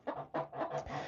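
Adult chickens clucking in a backyard coop at snack time, a quick run of close, busy clucks and murmurs in short bursts with no talk over them.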